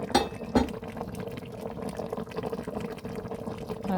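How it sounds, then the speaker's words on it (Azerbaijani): Cabbage dolma simmering slowly in a pot, giving a steady, close bubbling and gurgling with a couple of sharper pops near the start. "Bu da bizim kələm dolmamız yavaş-yavaş pişir,"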